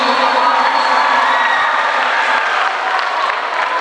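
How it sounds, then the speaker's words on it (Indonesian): A seated crowd applauds warmly at a Quran-memorisation (Juz 30 tahfidz) graduation ceremony for SMP Negeri 1 Kota Cirebon, with dense, loud clapping that carries on steadily and fades slightly near the end. "Tepuk tangan buat SMP Negeri 1 Kota Cirebon."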